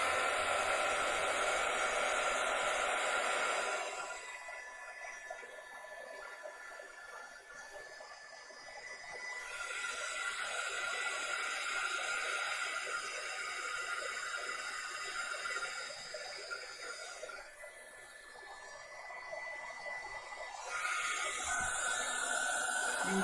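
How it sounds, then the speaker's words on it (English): A continuous airy roar of a heat gun blowing on marshmallows, loud at the start and end with a quieter stretch in the middle. "I'm going to use a heat gun."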